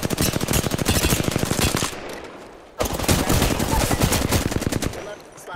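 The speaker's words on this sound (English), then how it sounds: "They're shooting at me." Dense automatic gunfire from a video game shootout rattles in rapid bursts, loud and close, with a short lull near the middle before the firing resumes just as hard.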